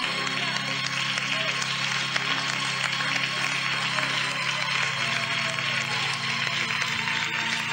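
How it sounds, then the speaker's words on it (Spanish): A church congregation at a night evangelistic campaign claps along, a dense continuous roar of applause and crowd noise filling the hall with no pause. "Y a su nombre aplauden porque Él vive."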